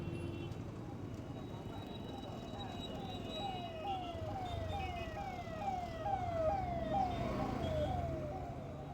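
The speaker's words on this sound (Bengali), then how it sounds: "আবার রেড করে দিল, কারণ অ্যাম্বুলেন্স আসছিল বলে জন্য রেড করে দিয়েছে।" Ambulance siren wailing in a repeating rising-falling pattern, growing louder as it approaches a traffic-light junction at a road crossing, with road and engine noise beneath throughout.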